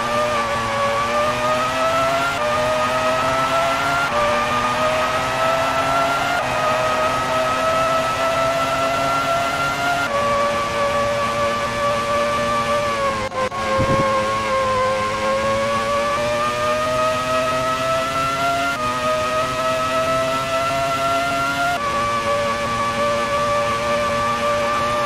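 A Formula 1 car engine from a PS1 racing game drones loudly and continuously, its pitch climbing through each gear, then dropping at several shifts into fourth and fifth, with no talk over it.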